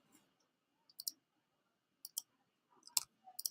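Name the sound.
mouse clicking while dragging files in Google Drive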